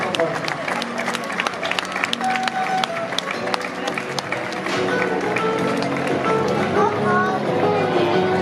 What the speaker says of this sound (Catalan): doneu-li un aplaudiment, que això no és fàcil